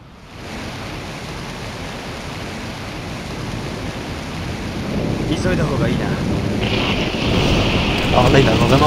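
Rain falls steadily as a soft hiss in the Shenmue II video game, with a low rumble of thunder building and swelling louder toward the end while a voice talks faintly.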